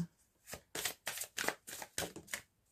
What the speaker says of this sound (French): Je vais tirer une petite carte de cet oracle pour finir ce tirage.